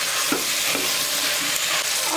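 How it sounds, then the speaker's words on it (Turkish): Steady, close sizzling and bubbling of food cooking in a hot pan, a continuous crackling hiss with a few soft stirring knocks. "Burada kaynıyor."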